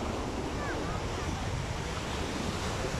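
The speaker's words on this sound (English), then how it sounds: "this is the Indian Ocean Beach Resort, and this is me walking on the shoreline" Indian Ocean waves wash continuously onto the shoreline at Diani beach in Kenya, a steady loud roar of surf mixed with wind buffeting the microphone, with no talk.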